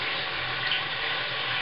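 Steady rush of tap water running into a sink, continuous and close, with no talk over it.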